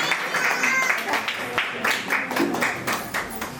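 An audience at a family havan applauds Prashantbhai, sustained clapping from a modest crowd with a voice speaking over it.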